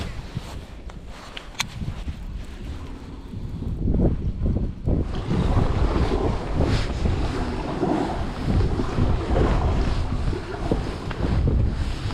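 Heavy wind buffeting the microphone at night on the Mississippi River backwaters, with roaring gusts that build louder partway through and stay strong, alongside water noise.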